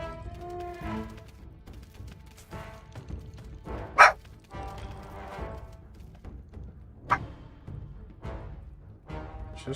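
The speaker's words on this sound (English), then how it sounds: "She's got to bark at everybody" A dog barks a few separate times over background game sound, with two sharp louder yelps standing out between quieter stretches.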